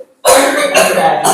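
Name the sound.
person coughing deliberately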